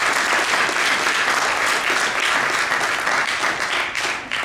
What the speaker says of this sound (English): Please give a warm round of applause for Alia Sharrief.